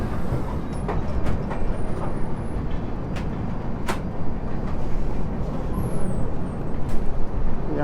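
The Chhattisgarh Express rumbles at Agra Cantt station with a broad, steady roar and occasional clanks and squeals, heard up close with no talking.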